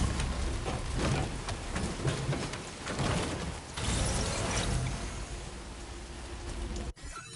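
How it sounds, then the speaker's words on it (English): Steady rain pours down in Death Stranding 2, a dense wash of hissing droplets mixed with mechanical rattling from a vehicle, fairly loud and continuous before cutting off abruptly near the end. "It is raining outside"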